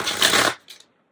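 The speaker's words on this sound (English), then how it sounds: "I'm just going to shuffle" A deck of playing cards with a Superior Smooth finish is shuffled up close: one quick, crisp riffle burst lasting about half a second, followed by a soft tap as the cards settle, with no talking.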